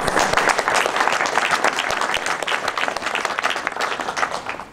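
Loud, sustained applause from an evening ceremony audience honoring Maryland Women's Hall of Fame inductees, many hands clapping close and dense, fading slightly toward the end.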